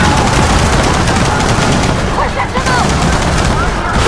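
Rapid machine gun bursts from the Troika turret in the video game Gears of War 4 fill the mix, loud and dense with dull booms, continuing without a break under the combat noise.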